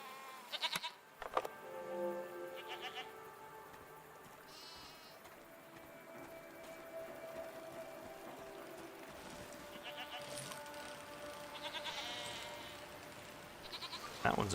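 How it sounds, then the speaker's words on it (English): Goats bleat repeatedly in the game SEASON: A Letter to the Future, with several distinct calls at moderate volume spread across a steady ambient background, and a louder bleat near the end. "If it looks like a goat and sounds like a goat, it's probably a goat."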